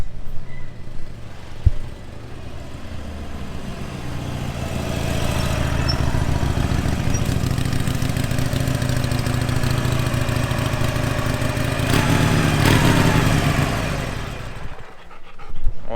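A black Harley-Davidson Super Low motorcycle rolls up close and settles into a steady, loud, low idling rumble that swells slightly before dropping off near the end.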